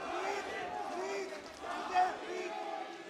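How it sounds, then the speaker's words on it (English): A crowd roars and cheers at a cage fighting championship in Shillong near the end of a round, a steady excited wash of voices with a brief swell near the middle, heard from a distance. "the crowd is going wild, man"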